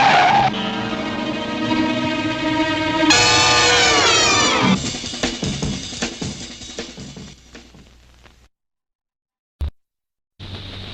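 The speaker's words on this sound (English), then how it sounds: "Run him off the road, Duke!" Tires on a car squeal in a long, shrill skid during a chase in a 1960s movie trailer, rising in pitch and then fading, followed by silence and one short thump.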